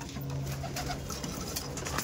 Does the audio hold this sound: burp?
no